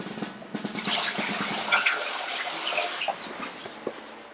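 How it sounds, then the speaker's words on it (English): Water running for a bath, a continuous bright hiss of flow with splashy, gurgling bursts, fairly close and moderately loud, easing slightly toward the end. "So I'm going to get the water running."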